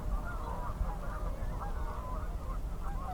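A flock of geese in a snowy riverside field honks continuously, many overlapping calls forming a busy chorus at moderate distance over low rumbling background noise.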